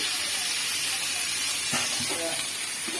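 Bitter gourd fries in a salted pan, giving a broad, steady hiss and sizzle with a few brief clinks partway through, and no talk.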